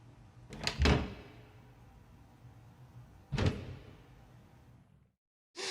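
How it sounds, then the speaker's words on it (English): Game door sound effect synced to a character walking through a doorway: a quick double knock-like thud near 0.8 s, a second clunk around 3.4 s, then a short bright burst after a moment of silence. "man walks through door"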